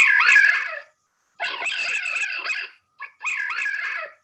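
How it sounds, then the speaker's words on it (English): Rapid, high-pitched chattering squeals from playing red fox kits, in three bursts separated by short silences, close and fairly loud. "when the young kits are playing, they'll do this little noise"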